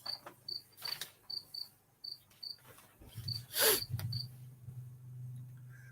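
A cricket chirps outdoors in a steady series of short, high, evenly spaced pulses, fairly faint and distant, with a brief louder burst of other noise partway through.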